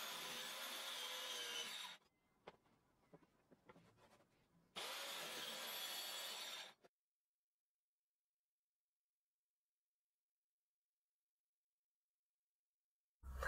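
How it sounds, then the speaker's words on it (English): A Skil 5330 multisaw makes plunge cuts in wood in two loud, steady bursts of about two seconds each. Quieter handling noises fall between the bursts, and silence follows the second cut. "As you can see, it's very simple to make those plunge cuts."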